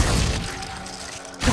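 Glacius ice spell from Hogwarts Legacy shattering, a loud crackling burst of breaking ice that fades within a second and a half, alone with no talk.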